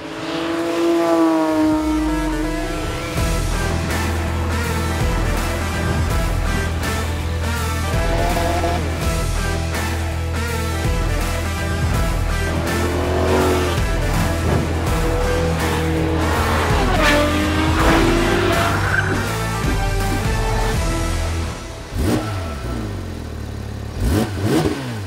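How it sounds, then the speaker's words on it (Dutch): A Porsche 911 GT3 race engine with a small flywheel revs hard at full throttle through the gears with wheelspin, loud and close, its rising and falling pitch sweeping sharply across successive shifts. "Zo mooi is dat, zo'n race motor, zo'n klein vliegwiel."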